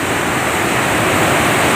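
Floodwater pours over an overflowing bridge in a loud, steady roar of rushing water, close and continuous, with no voices.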